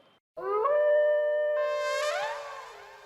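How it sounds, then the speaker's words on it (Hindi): A dog howls in a long, rising and wavering cry that holds steady and then slides down and fades, loud and close with a slight echo. "लो फिर से कुत्ते को रुलाता हूँ।"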